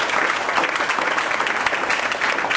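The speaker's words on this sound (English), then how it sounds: "Let's give him another round of applause." Audience applause for performer Mike Wynn, a dense, steady burst of many hands clapping at moderate loudness for a couple of seconds.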